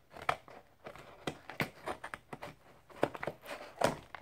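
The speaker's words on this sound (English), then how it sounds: "I'm going to try cutting this open with scissors this time." Quiet close-up crinkling and snipping as scissors cut open a plastic My Little Pony blind bag, irregular small cuts and rustles with no talking.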